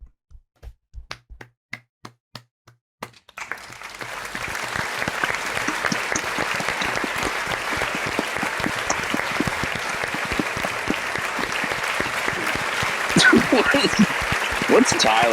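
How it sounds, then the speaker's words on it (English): A few sharp isolated taps open, then a sustained burst of applause for Brock Holt plays loudly and evenly to the end, like a clapping sound effect, with voices faintly underneath. "Can we do the applause for Brock?"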